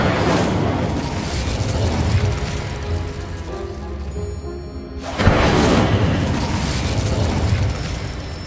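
The Incendio fire spell in Hogwarts Legacy erupts as a loud, dense roaring blast of flame, a sustained whooshing burst that dips briefly, then surges again with a sharp renewed rush.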